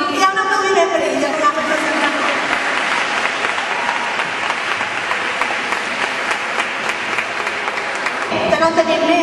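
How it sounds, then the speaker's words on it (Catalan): Sustained applause from an audience fills the room at a school or community maths event, clapping steady and dense throughout before thinning briefly near the end. "Hi ha un aplaudiment per ella."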